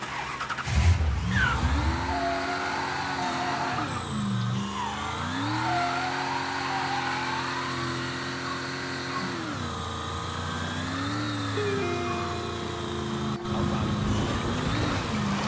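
A car engine in the Mafia III video game revs repeatedly, its pitch climbing and dropping in smooth waves over a steady idle, moderately loud and close without any voices.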